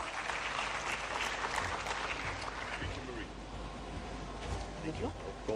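A hall audience at an annual general assembly claps steadily and densely as a panel moderator is invited to the stage, a sustained wash of applause lasting several seconds without a break.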